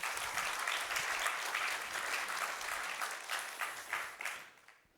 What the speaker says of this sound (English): I suggest that we give another round of applause for my fantastic guests at today's podcast